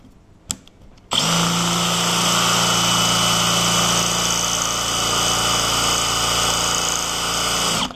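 A power drill bores steadily into the hardened steel pin of a trailer lock, a loud continuous high whine after a few faint knocks at the start.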